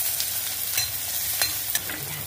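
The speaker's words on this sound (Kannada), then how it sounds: "ಈರುಳ್ಳಿ ಹಾಕೊಂಬ ಫ್ರೆಂಡ್ಸ್" Onions frying in oil with mustard seeds and cumin for cabbage rice, stirred in the pan: a soft, fairly quiet sizzle with a few light scraping taps, no speech.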